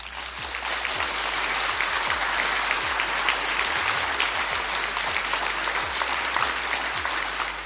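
A theatre audience applauding, a thick and sustained wall of clapping from a large crowd that holds steady for several seconds with no one talking.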